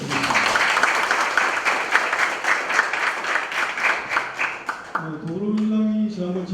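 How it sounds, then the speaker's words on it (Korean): A big round of applause from an audience at a Korean political forum on decentralization and regional innovation, steady clapping for several seconds before a voice begins speaking over a fading tail. "큰 박수 부탁드립니다."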